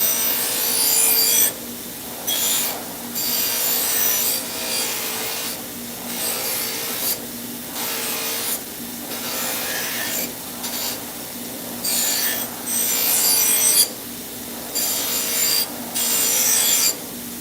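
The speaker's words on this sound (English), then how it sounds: "at this stage, we'll take and wire wheel it, just the same we're about to do now" Wire wheel brushing a steel knife blade during blade work in a knife shop, a steady harsh rasping grind broken by short pauses and repeated passes, loud and close with no talking.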